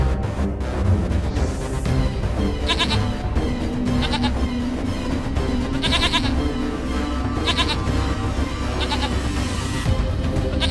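A goat bleats again and again in short, wavering cries, loud and close over a dense, busy background with no talking.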